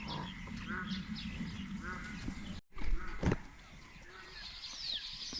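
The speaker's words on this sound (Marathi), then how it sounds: "पक्ष्यांचा आवाज बघा" Birds calling around a farm field at the start of sowing season in rural Konkan, with duck-like quacking calls mixed into steady outdoor ambience, a louder burst midway; a person speaks at times.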